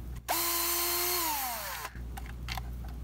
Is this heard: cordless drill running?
yes